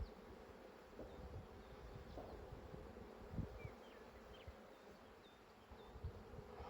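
Honeybees buzz around an open hive in a steady, faint outdoor drone, individual bees whining past now and then, with soft handling knocks and no talking.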